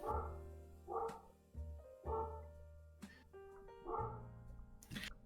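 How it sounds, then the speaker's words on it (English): A dog barks several times in short, loud bursts, spaced irregularly a second or so apart, close by and alone in an indoor room. "Oh my god, dog, shut the fuck up."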